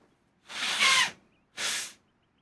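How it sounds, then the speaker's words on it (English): A person blows their nose twice, a longer forceful blast followed after a short pause by a briefer one, close and loud against a quiet background. "Sorry, I had to blow my nose there."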